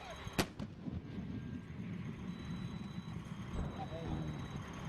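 An artillery cannon fires with one sharp, loud blast early on, followed by a rumbling echo over a constant noisy background, with another dull thump later and people talking throughout.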